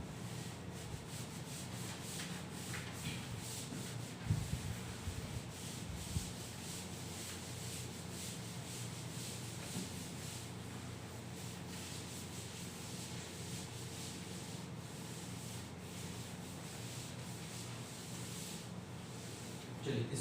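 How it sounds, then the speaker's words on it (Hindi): Steady, continuous rubbing across a classroom board as a maths problem on matrices is erased, a dense scrubbing hiss running the whole time, close and fairly loud, with a faint voice in the background. "चलिए इसको अब मैं रब कर देता हूं।"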